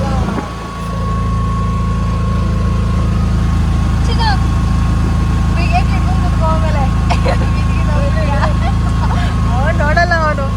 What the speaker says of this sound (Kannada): ನಾವು ಇವಾಗ ವಂಡರ್ಲಾಗೆ ಆಟೋದಲ್ಲಿ ಹೋಗ್ತಾ ಇದ್ದೀವಿ